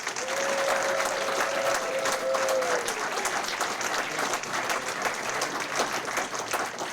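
Steady applause from an audience at a county sports Hall of Fame ceremony honoring inductees, sustained and fairly loud for several seconds, with a faint whistle near the start.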